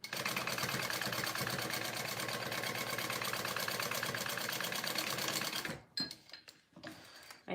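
Sewing machine stitching fabric in a steady, rapid mechanical whir for about six seconds, then stopping, followed by a few quiet handling sounds.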